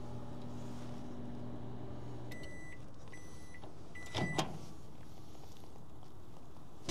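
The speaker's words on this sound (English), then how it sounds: "Here we are heating it up. This is a 1000 watt microwave oven." A 1000 watt microwave oven heating sausages gives a steady hum with low drones. Its running tone shifts partway through, and a couple of short clicks or clacks sound close by.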